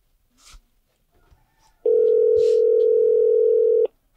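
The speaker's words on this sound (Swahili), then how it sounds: "Simu yangu hiyo." A single steady electronic telephone tone sounds for about two seconds, loud and clean, with faint brief noises before it in an otherwise quiet room.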